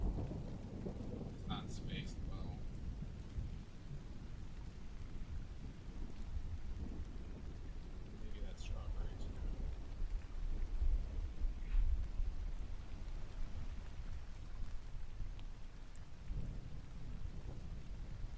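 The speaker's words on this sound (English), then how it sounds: "It's been insane how much it's raining and pouring out here." Heavy rain pours steadily outdoors, a dense continuous hiss with low rumbles of distant thunder rolling through, plus a few faint higher sounds in the background.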